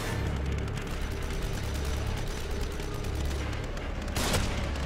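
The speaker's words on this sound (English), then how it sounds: "They're shooting from above." Enemy gunfire in The Evil Within rattles down from above, a steady barrage of rapid shots with a low rumbling undertone, loud and constant, with a sharp burst near the end.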